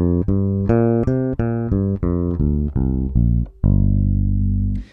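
A guitar runs up a minor pentatonic scale shape, one clear picked note after another in an even rhythm, ending on a sustained ringing note, with no talking.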